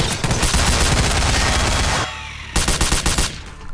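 Gunfire in Garry's Mod DarkRP: a loud, sustained volley of rapid shots for about two seconds, a short pause, then several more quick bursts that trail off. No voices.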